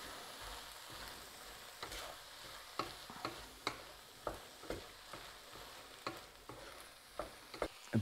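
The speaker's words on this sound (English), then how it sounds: "In go our tomatoes, we'll stir that around a little bit." Tomatoes are stirred in a frying pan with a quiet sizzle underneath, a utensil scraping and knocking against the pan in a loose, repeated rhythm, close and soft with no talking.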